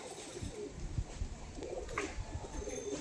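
Pair of large pigeons cooing close by, soft low throaty coos repeating in a steady rhythm over faint background noise, with a brief higher chirp in the middle.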